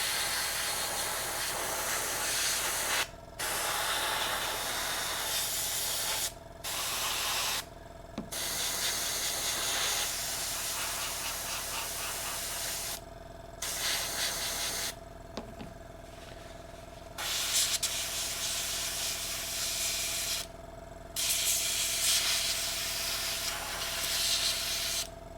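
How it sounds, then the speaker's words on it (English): An airbrush sprays paint onto a sculpture in repeated hissing bursts separated by short silent pauses, steady and close over a faint low background hum. "I might need to change my airbrush"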